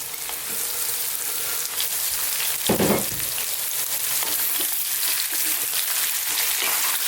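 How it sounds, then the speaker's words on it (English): Curry leaves, garlic-ginger paste and sliced onions fry loudly in a hot pan, a dense steady sizzle with a brief louder crackle burst partway through, no voices. "We're going to go in with some curry leaves, garlic ginger paste, which is a 50-50 mix of garlic and ginger,"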